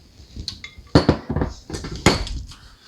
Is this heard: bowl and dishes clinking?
yes